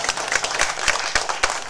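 An audience at a Tamil movie audio launch event claps in a loose, uneven patter, with individual sharp claps standing out from a thinner crowd applause.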